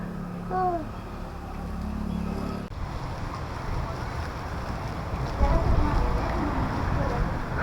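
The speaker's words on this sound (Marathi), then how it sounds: "वारं सुटले मस्त गार" Steady wind rushing and buffeting across the microphone outdoors, with a few faint voices and a brief tonal sound early on.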